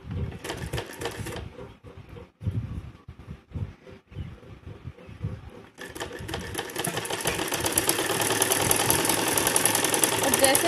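A sewing machine stitches a blouse: short bursts of rapid mechanical chatter, then one long continuous run that builds steadily louder, close by, with someone talking in Hindi between bursts.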